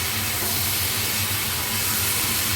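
Water poured into a pan of fried mixed vegetables sets off a loud, dense, continuous hiss of steam and sizzle, close and unbroken for the whole stretch.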